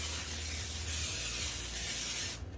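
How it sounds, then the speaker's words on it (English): Cooking oil sprayed from a can over the top of a kabocha squash, one continuous close hiss lasting a couple of seconds before cutting off. "I'm just going to spray the top"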